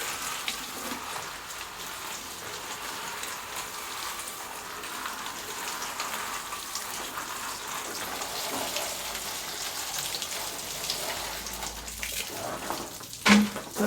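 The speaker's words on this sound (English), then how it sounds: "What I'm going to do now is give them a drop of water" Potted tomato plants being watered, a steady close pattering spray of water onto soil and leaves that runs continuously, ending with a brief knock.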